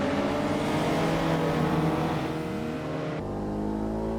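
Car driving on Mulholland Drive in Assetto Corsa free roam, a steady loud engine hum that rises in pitch while accelerating, then drops abruptly as it shifts, with no talk.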